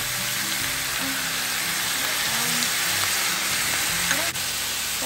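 Chicken sizzles and fries in a pan after fish sauce goes in, a steady, close crackling hiss that runs evenly throughout with a few faint clinks and stirring touches.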